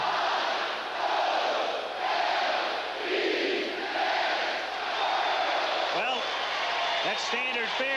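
A packed stadium crowd at the 1983 World Series cheering as Wild Bill Hagy leads them in spelling out O-R-I-O-L-E-S, a roaring chant that rises and falls in waves, with whistles near the end.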